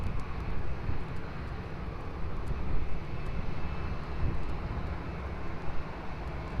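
A plane on approach to the runway at Lisbon Airport gives off a steady, loud, broad engine roar that swells slightly and holds throughout, with no voices over it.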